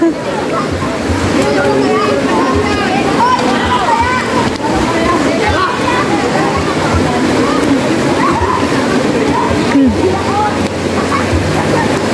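Steady splashing and sloshing of water as people play chase, with voices and shouts mixed throughout at constant loudness.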